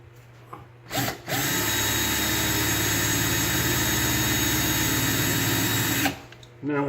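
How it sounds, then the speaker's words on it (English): A power drill with a 1/8 inch bit whines loudly and steadily for several seconds after a brief start-stop burst, biting into an old Sargent metal padlock up close. "I'm just going to take my drill with a 1/8 inch drill bit."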